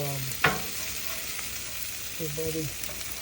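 Beef corn fries frying in a pan, a soft steady sizzle throughout with one brief clatter as they are flipped, and short tonal beeps or hums in the background.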